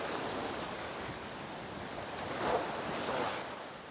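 Ocean waves washing onto a sloped sand beach, a broad continuous surf roar with a swell that rises and then fades, mixed with some wind rumble against the microphone.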